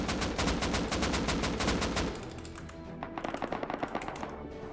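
Rapid automatic gunfire in the survival video game Rust during a raid, loud dense bursts for two seconds, then scattered sharper shots further off at an uneven pace.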